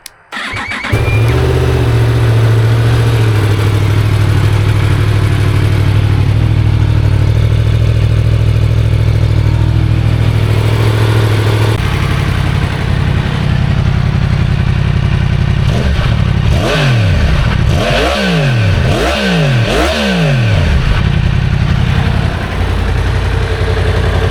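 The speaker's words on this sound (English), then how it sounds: "give you a little start up with the stock exhaust" A Yamaha MT-10 motorcycle engine with stock exhaust cranks and fires up, idling loudly and unevenly, then settles before several sharp throttle revs rise and fall near the end.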